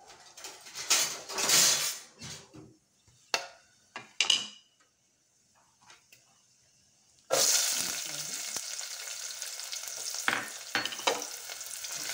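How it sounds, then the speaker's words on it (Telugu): Whole spices go into hot oil for coconut rice, with close clinks and scrapes of a utensil against the pan, a quiet pause, then a sudden steady loud sizzle of frying that continues to the end. "ముందుగా ఆయిల్ వేసుకొని ఈ విధంగా మసాలా దినుసులన్నీ వేసుకోవాలి"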